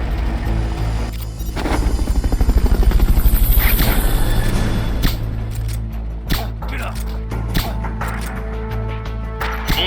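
In Metal Gear Solid Peace Walker, a helicopter's rotor chop swells to a loud, pulsing peak, then gives way to scattered game effects and bangs, with speech underneath.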